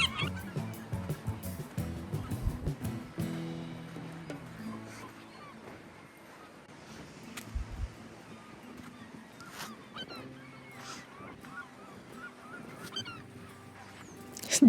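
Large gull colony on Block Island calling near the shore, a dense mix of harsh honking cries over steady background noise, loudest at the start and fading somewhat before rising again at the end.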